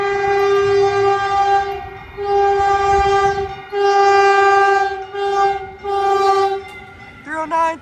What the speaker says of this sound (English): here comes Caltrain 147. This is a northbound local train making all stops to 4th and King Street station in San Francisco.